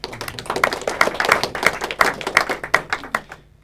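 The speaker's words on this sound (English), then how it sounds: "Round of applause for Adam." A comedy club audience gives a round of applause for a volunteer named Adam, a lively patter of claps with a few sharp hand strikes standing out, fading away near the end.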